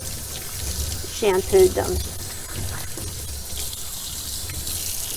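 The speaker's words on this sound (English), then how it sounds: "I always just kind of cover their face and let the water run back on their neck." Tap water runs steadily while a six-week-old Shih Tzu puppy is rinsed after shampooing, a constant wash of flow under a person talking nearby.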